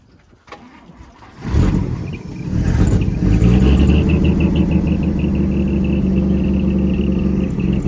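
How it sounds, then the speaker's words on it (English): A 1956 Chevy engine cranks over after a cold winter, catches after a second or so, and settles into a steady, loud, close idle with a deep rumble. "Well, it should idle now for a little bit."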